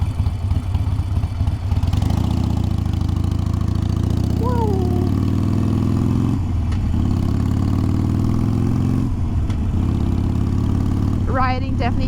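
A Harley-Davidson motorcycle engine drones steadily while riding out of the city through open scenery, a loud continuous rumble with slight pitch shifts as it accelerates, and brief mechanical clicks near the end.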